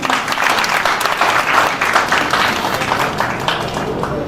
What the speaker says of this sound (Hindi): के लिए बहुत सारी तालियां।